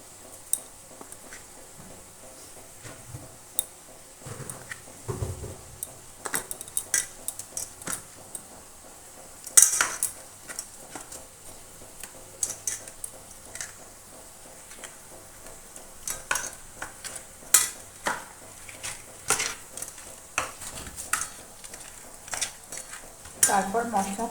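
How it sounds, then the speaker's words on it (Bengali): Slit green chillies and tomato are sautéed in a pan for a pabda fish and pat sak dish, with repeated spatula scrapes and metallic clinks over a low sizzle, close by and uneven in rhythm. "তারপর সমস্তটাকে আমি কিন্তু ভালো করে কষিয়ে নেব"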